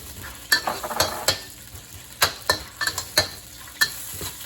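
Ginger fries in a pan for braised chicken wings with shiitake mushrooms: a low sizzle runs under repeated sharp scrapes and clinks as it is stirred, close by.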